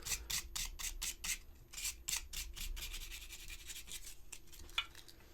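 Sandpaper rasps back and forth along a seam line on a resin model kit, in quick rhythmic strokes, close and steady, with no voices.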